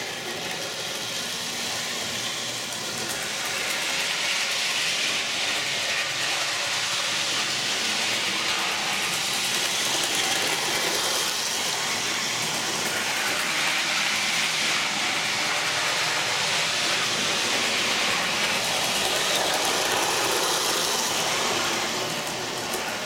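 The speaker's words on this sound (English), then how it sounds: "and the train's working" A model train runs on a Christmas tree layout, giving a continuous whirring, rumbling drone that stays steady and close with no talk.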